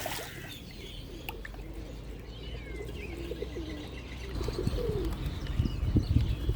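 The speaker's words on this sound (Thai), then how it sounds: "ส่วนด้านบนก็จะเป็นนกพิราบ" Pigeons coo softly above a fish pond in Kamphaeng Phet, Thailand, their low murmuring calls repeating over a steady outdoor hum, with faint chirps from other birds and a slight rise in activity toward the end.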